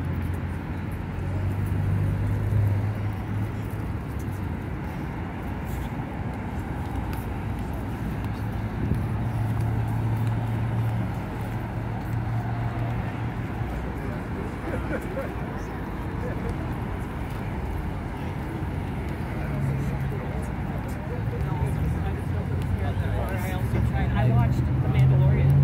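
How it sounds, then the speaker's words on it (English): Steady car and bus traffic rolls toward the entrance of Resorts World Las Vegas on a holiday weekend with road work, a continuous low road rumble from nearby vehicles with talk over it throughout. "there's quite a bit of traffic back there"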